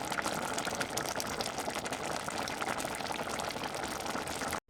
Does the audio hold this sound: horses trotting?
no